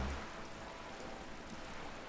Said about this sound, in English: Like the rain, Kim. The rain.